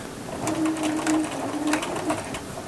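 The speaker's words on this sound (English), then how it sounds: "I am sewing a circle and I'm manipulating my flat edge to create a curve" Sewing machine stitching a curved circle seam onto a duffle bag, running in slow, uneven bursts with a steady mechanical whir and light tapping, close and fairly loud.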